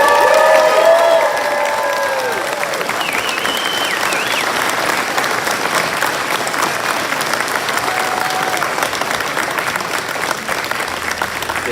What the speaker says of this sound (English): All right, cheer.